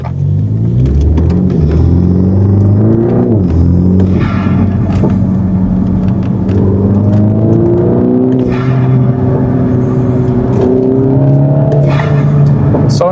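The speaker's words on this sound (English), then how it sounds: "out for a drive so you can hear the intake kit" A MINI F56 with an aftermarket intake kit drives along, its engine droning loudly and steadily, the pitch rising and falling through gear changes as it accelerates, heard close from inside the car.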